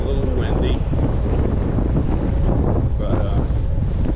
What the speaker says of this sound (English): It's a little chilly and a little windy.